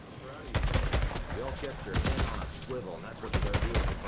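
Rapid bursts of gunfire from a weapon in the Days Gone video game, several close, loud volleys of repeated shots, with a voice talking between and over them.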